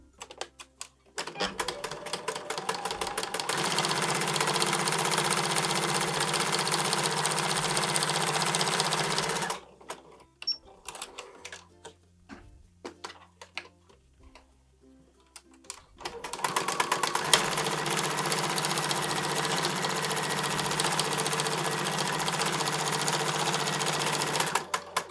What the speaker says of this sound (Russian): И сейчас будем прошивать по длинной стороне строчку пускать.